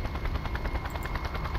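A helicopter in the action video game Just Cause beats its rotor in a fast, steady thump, loud and near, with rattling gunfire mixed in and no speech.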